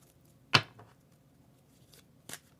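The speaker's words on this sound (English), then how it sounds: "And I've been shuffling." Tarot cards are handled in two brief riffling bursts, one sharp and close, the next softer, separated by near-silence.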